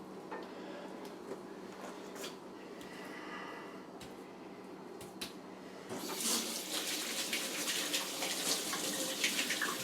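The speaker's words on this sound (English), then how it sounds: "Rinse off my hands." Tap water runs over hands being rinsed at a kitchen counter while venison summer sausage is being made, a steady broadband rush that swells and grows louder after a few seconds of quieter handling and splashing.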